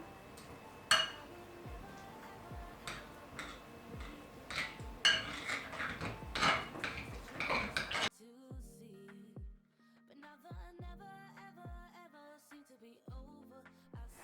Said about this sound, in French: on va venir mélanger les crèmes ensemble